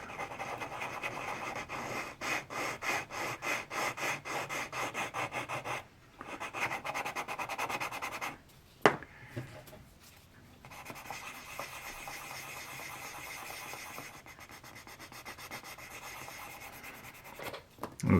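Sanding on a small model ship part, a steady dry rubbing rasp repeated in quick back-and-forth strokes, close and fairly loud, with a brief pause midway before the rubbing resumes.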